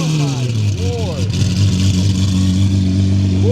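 A car with a custom-built exhaust revs loudly up close, its engine note swooping up and settling into a deep, steady drone, while people talk and exclaim over it.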